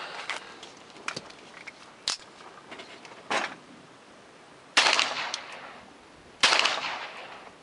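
A .45 handgun fires at an outdoor shooting range, sharp, fairly distant reports spaced irregularly, a couple of them louder with a short echoing tail, over faint background noise and no talking.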